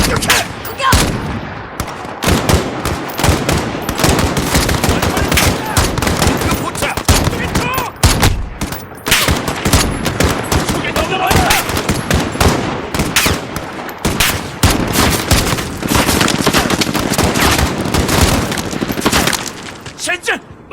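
Dense, loud automatic gunfire and rapid shots crackle almost without pause during an embassy mission in Call of Duty: Modern Warfare (reboot, PS4), with voices shouting over the fire.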